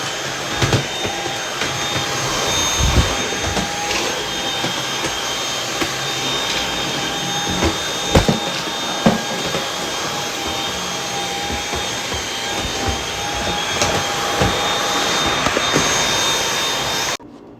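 A Dyson vacuum cleaner fitted with a replacement floor brush that has built-in lights runs steadily and loudly for the whole stretch, a continuous whirring motor drone with faint bumps and rattles as the brush moves, and no talking.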